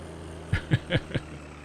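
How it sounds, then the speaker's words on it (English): A loud farm tractor engine runs nearby with a steady low drone, punctuated by four regular, chugging bursts in quick succession, no speech over it. "I've been told this tractor is very loud"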